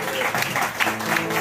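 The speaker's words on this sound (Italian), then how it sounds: "E allora continuiamo questo applauso anche per Anna." Applause for Anna at Nicoletta's birthday party, a dense patter of clapping that carries on steadily across the short stretch, with faint voices and background music mixed beneath it.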